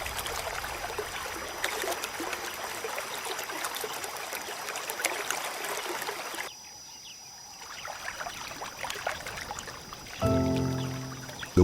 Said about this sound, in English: the roar of rushing water blending with the predator's fierce growls